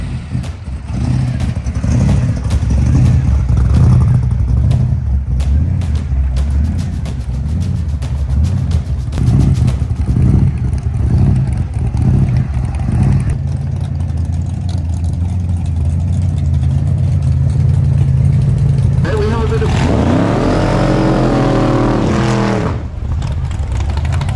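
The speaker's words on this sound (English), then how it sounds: "He's got this little 1959 Nash Metropolitan with a 496 big block Chevy in it." A 1959 Nash Metropolitan drag car fitted with a 496 big block Chevy racing, its engine roaring loud and steady throughout, rising into a sharper revving pass near the end.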